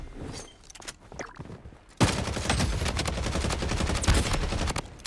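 SMG hipfire in the shooter Blood Strike: after quieter rustling and a few faint pops, a loud, continuous stream of rapid automatic shots bursts in close and keeps going without pause.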